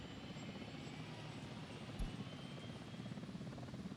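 A steady helicopter rotor drone from the World Rescue video game holds at an even level, broken by one short click partway through, with no voices.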